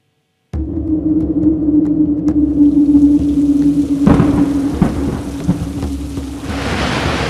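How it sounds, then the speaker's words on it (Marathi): Heavy unseasonal rain with thunder during a Mumbai storm, starting abruptly and holding as a loud, steady downpour with a low rumbling layer and a few sharper cracks. "जोराचा पाऊस,"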